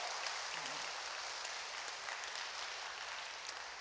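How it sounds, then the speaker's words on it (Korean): A church congregation claps to welcome a newly arrived pastor during a Sunday service, steady, dense applause that holds evenly at a moderate distance for a few seconds with no voices over it. "여러분 크게 박수로 환영하십시다."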